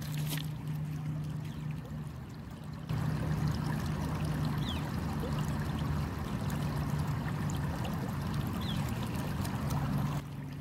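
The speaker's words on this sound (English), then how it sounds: "a lot of water moving, just nature happening all around us." Water flows steadily outdoors in a broad, continuous rush, close and moderately loud, with a few faint bird calls scattered over it and no voices.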